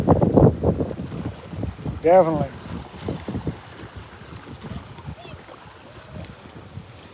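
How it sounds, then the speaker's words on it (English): Steady wind rumble buffets the microphone throughout while bluegill fishing, with someone talking over it near the start and outdoor water noise in the background. "With as much wind as coming"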